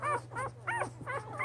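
A one-week-old Airedale Terrier puppy whimpers close by, giving about five short, high, rising-and-falling whines in quick succession, with a faint hum underneath.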